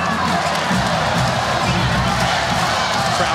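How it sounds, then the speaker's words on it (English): A home crowd at a Hawaii Rainbow Wahine volleyball match cheering and shouting to urge their team on, a dense, loud, continuous roar of many voices filling the arena. "Crowd trying to urge the home team on"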